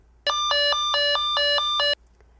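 A fall-prevention motion alarm set to alarm mode gives a loud, close electronic warning: a rapid run of about eight even beeps over just under two seconds, then stops, with no other sound.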